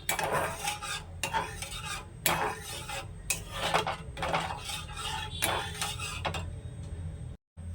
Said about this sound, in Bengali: লিকুইড দুধটা দেওয়ার পর আমের সাথে ভালোভাবে মিশিয়ে দেবেন।